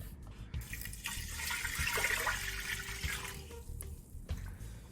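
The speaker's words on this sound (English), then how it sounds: "And we toss in the 4 cups of water." Four cups of water pour into a pot in a soft, continuous stream with light splashing, heard alone at a moderate distance.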